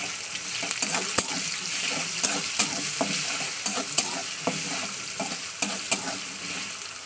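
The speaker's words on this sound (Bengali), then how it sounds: "সমস্ত মশলা দিয়ে আমি তেলের সঙ্গে ভালো করে কষিয়ে নেবো।" Onion, green chili and ginger-garlic paste frying in oil in a pan, a continuous close sizzle broken by regular scraping stirs and sharp utensil taps, with no talking.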